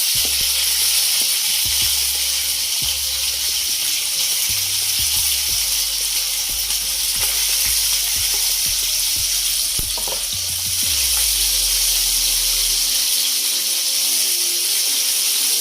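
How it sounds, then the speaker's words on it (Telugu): Capsicum pieces frying in hot oil for chicken 65 fried rice, a loud continuous sizzle with steady hiss, punctuated by repeated scraping and stirring knocks against the pan. "చెరగడ్డించుకొని క్యాప్సికమ్ ముక్కలు వేసుకుందాం."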